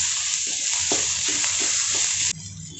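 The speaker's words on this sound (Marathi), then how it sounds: "त्या 2 हिरव्या मिरच्या, कांदा आपण गुलाबी रंगावर येईपर्यंत परतून घेऊयात।" Sliced onion and two green chillies sizzle steadily in a hot pan while being sautéed for a mixed sprouted legume usal, with a few stirring scrapes, loud and close, easing off near the end.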